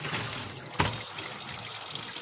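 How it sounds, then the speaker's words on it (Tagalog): Tap water runs steadily into a dog's water container as it is changed and refilled, a continuous near splashing gush with one brief knock partway through. "Karon kay akong ilisan ang tubig dito sa tiris nato."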